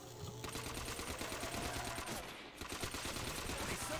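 Rapid automatic gunfire from a gun in a video game, a steady stream of close, sharp shots that pauses briefly midway and then resumes.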